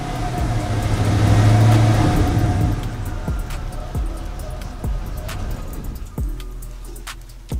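An old truck engine idles roughly after being started, a loud rumbling mid-pitched run that swells early then settles, with uneven thumps and knocks through the steady drone and no talking.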